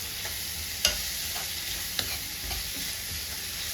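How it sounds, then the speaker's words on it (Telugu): Brinjal curry being stirred in a frying pan, a soft continuous sizzle with a few sharp spatula clinks and scrapes against the pan, no talking. "వేసుకొని బాగా కలుపుకోండి"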